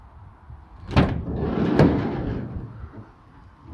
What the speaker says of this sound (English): we have a sliding door